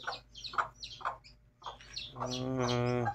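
Mother hen with her chicks, a run of short clucks and chirps in quick bursts followed by a longer, louder rising call, close and clear with no talk.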